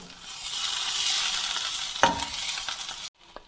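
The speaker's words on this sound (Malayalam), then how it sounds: "ഫസ്റ്റ് ഇടാം ഇഞ്ചി കുറച്ച് വഴറ്റിയെടുക്കാം" Chopped ginger sizzles and fries in a pan as it is stirred for a fish curry, a continuous close hiss with a scrape partway through before it cuts off abruptly.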